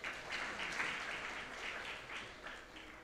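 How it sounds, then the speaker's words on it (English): Conference attendees at an insurance brokers' gathering applaud themselves, a fairly faint, distant spell of group clapping with a gently pulsing rhythm. "Can we clap for ourselves?"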